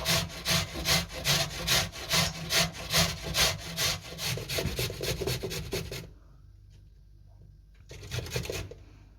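Rhythmic back-and-forth sawing of a knife through a firm pumpkin, about a dozen even strokes, then a pause and a few more strokes, close by.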